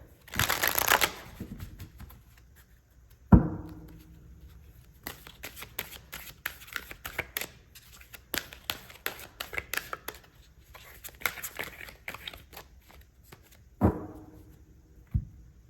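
Earth Magic Oracle cards being shuffled by hand, with repeated bursts of riffling and soft slaps of the deck, close and clear in a quiet room, with occasional thumps between passes.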